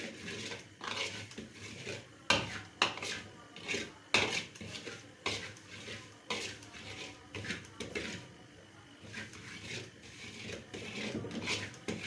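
A metal spoon scrapes and knocks repeatedly against a pan while a roasting mixture is stirred, an irregular, close clatter of clinks and scrapes that continues throughout.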